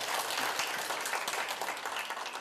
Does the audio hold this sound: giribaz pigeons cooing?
no